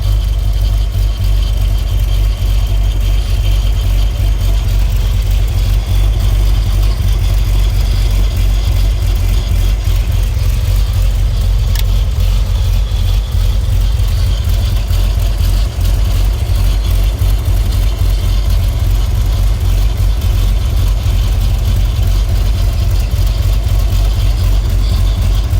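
A 1929 Buick engine idles steadily and loudly at close range after an oil change, a constant low rumble with a mechanical whir running unbroken throughout.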